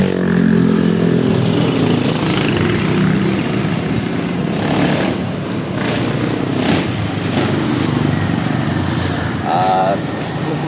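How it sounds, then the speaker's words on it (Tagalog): Motorcycles pass along a slippery morning road in the Philippines, a continuous engine drone with rising and falling passes under loud steady talk. "May mga service na motor."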